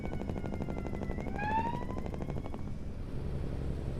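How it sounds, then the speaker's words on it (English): Ambulance siren rising and wailing over steady road and truck cab rumble, fairly faint and distant, heard alone without talk. "That's an ambulance."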